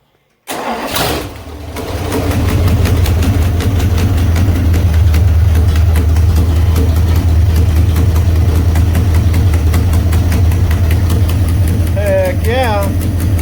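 An old engine, running on its own fuel tank for the first time in decades, cranks and catches, then settles into a steady, loud idle with a deep low rumble throughout; faint voices are heard near the end.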